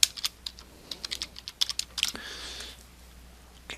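Computer keyboard typing while writing HTML code: quick irregular clusters of light clicking keystrokes, close and clear, ending with a brief pause and a final tap.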